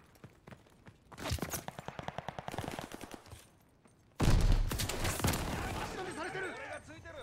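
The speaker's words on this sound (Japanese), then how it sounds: "そのマシンガンやばいな。" An MG42 machine gun in Call of Duty: Vanguard on PS5 fires in a rapid, evenly spaced stream of shots, then a louder, denser burst follows after a short pause, with no one talking.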